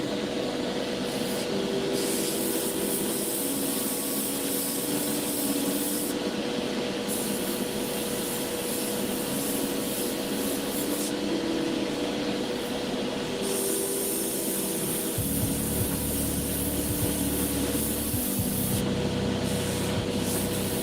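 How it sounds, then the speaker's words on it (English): Continuous airy hiss of an airbrush with a 0.3 needle spraying white paint, steady and close, with a faint motor-like hum shifting pitch underneath. "I run a pretty small needle in the airbrush here"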